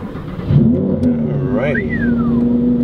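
A Lamborghini Huracan Performante engine turning over and catching, then settling into a strong, steady idle with a quick rising blip of revs partway through, close and loud, while someone speaks briefly at the start.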